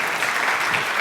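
A conference audience at the AngularConnect keynote claps for Igor, a dense, steady burst of applause lasting about a second.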